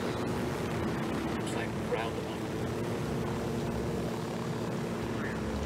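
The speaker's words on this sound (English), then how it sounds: "There's a plane." A cartel supply plane in the Ghost Recon Wildlands game drones steadily overhead as a continuous engine hum with propeller tone, sustained at an even level throughout, with faint game sounds mixed in.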